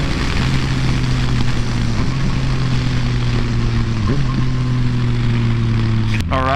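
A 2014 Yamaha FZ-09 three-cylinder motorcycle engine drones steadily under riding load, its note dipping briefly at a couple of shifts, with continuous wind rush throughout and a sharp burst at the very end.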